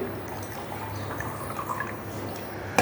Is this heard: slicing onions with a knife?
no